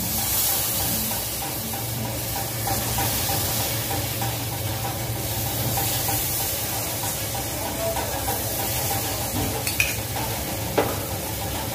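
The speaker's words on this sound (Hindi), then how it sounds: "और इसको बराबर चलाते हुए सुखाएंगे" A maize flour laddu mixture with a little milk being stirred in a pan, a steady close scraping and faint sizzle running continuously throughout, with a couple of sharper spoon taps near the end.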